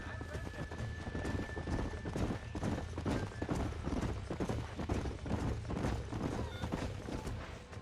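Horses clip-clopping at a steady walking rhythm on a ranch in the video game Red Dead Redemption 2, with an occasional whinny and faint mechanical creaks, hooves close and continuous while voices talk over them.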